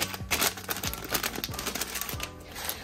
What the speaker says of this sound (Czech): Ještě si narazítkáme takhle klíčky.